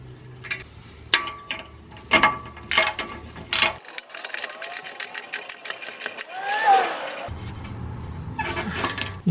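A ratchet wrench tightens nuts on a new car exhaust, with bursts of rapid clicking, some long and dense and some short, close and loud, amid tool clatter and some talk.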